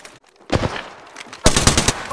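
Apex Legends gunfire in loud, rapid automatic bursts, one short volley followed by a longer sustained burst of shots, with no talking.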